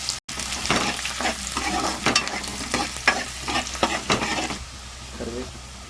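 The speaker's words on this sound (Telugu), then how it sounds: "ఇప్పుడు ఆనియన్స్ వేసుకోవాలి." Sliced onions hit hot oil with whole spices such as cardamom, cloves, cinnamon, shahi jeera and bay leaves, giving a close, steady sizzle broken by repeated scraping stirs, then settling to a quieter fry.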